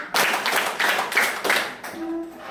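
A group claps hands in a steady counted rhythm during a practice drill, about five broad bursts in a row, followed by a short faint tone.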